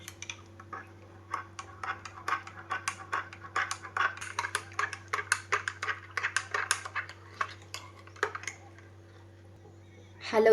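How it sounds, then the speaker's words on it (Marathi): A spoon stirs raw mango panha in a glass, giving a fast run of light clinks and taps against the glass for several seconds over a low hum. "चमच्याने असे हे हलवून घेतलेले."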